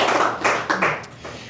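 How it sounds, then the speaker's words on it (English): An audience at a government announcement on mental health funding claps briefly, a short patter of applause that fades within a second or two. "So I think that's worth a clap"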